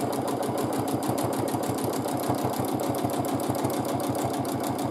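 A sewing machine runs steadily during free-motion quilting. Its rapid, even mechanical stitching pulse is loud and close and continues without interruption, with no talking.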